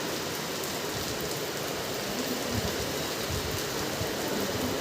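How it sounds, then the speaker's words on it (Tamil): Steady rain pours down continuously during a storm in Chennai, a dense hiss of drops striking surfaces with no pauses or voices. "மழை சவுண்டை கேளுங்க கொஞ்சம்."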